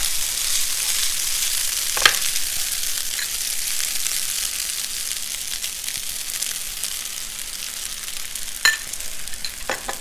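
Spaghetti carbonara with bacon sizzles steadily in a hot pan as it is tossed, a continuous close frying hiss broken by a few sharp clinks and scrapes, with no talking.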